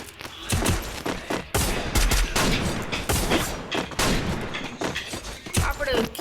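Loud, sustained gunfire in the Free Fire battle royale video game, with dense overlapping bursts and rapid automatic shots rattling almost without pause.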